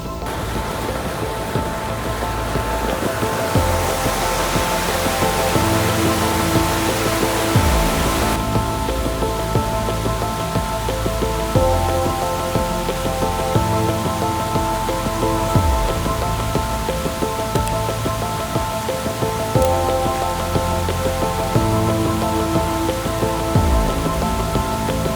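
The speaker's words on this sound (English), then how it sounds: "The main waterfall kind of cuts one way and then zigzags another way." Yellow Dog Falls in winter, a steady broadband rush of falling water, loud and continuous, close by and unchanging for the whole stretch with no voices.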